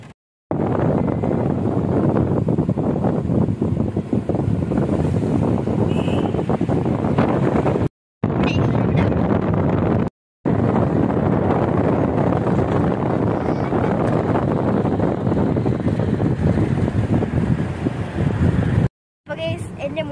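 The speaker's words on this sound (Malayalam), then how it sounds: "നല്ല കാറ്റുണ്ട് ഇവിടെ" Strong wind gusts at an outdoor tourist spot, buffeting the microphone as a loud, continuous roar with a few abrupt cutouts.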